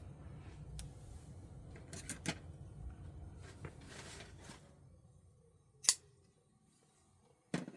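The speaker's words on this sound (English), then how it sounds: "I'm just gonna trim it right about here" Scissors trim a handmade paper bookmark in a quiet room, giving a few sharp, isolated snips; two near the end stand out as crisp, loud cuts.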